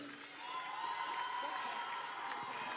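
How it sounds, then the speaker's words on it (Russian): A crowd at the Mister KPI 2017 award ceremony applauds and cheers for a sports-stage winner, a sustained, fairly distant roar of clapping and shouts with some voices mixed in. "Под ваши аплодисменты."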